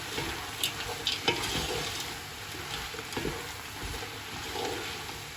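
Potatoes and peas being stirred through keema in a frying pan, a steady soft scraping and gentle sizzle with a few sharper clacks of the spoon, close by and fairly quiet.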